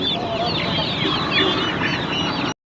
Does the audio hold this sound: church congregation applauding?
no